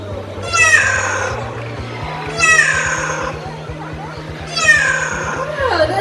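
At a bird park show, a parrot imitates a cat's meow with three drawn-out, rising-and-falling meow calls spaced a couple of seconds apart. A steady low engine-like drone and faint children's voices run beneath them.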